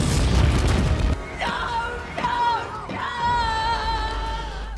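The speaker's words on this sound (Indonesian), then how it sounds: "Pesawat mereka harus hancur akibat ledakan seluruh pesawat Sofrets." Sci-fi film scene of a spaceship fleet exploding: heavy booming blasts open, followed by high, wailing tonal sweeps and swelling effects.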